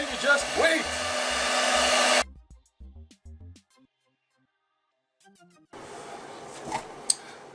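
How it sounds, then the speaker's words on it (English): A handheld blow dryer on its cold setting blows over freshly sealed foam. The loud, steady rushing whoosh stops for a few seconds, then starts up again. "that is a notable difference just by a simple blow dryer"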